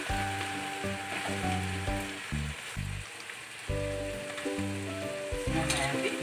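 Jackfruit and chickpea biryani mix with garam masala sizzles in a pan, a constant crackling fry under steady tonal hum, moderately close.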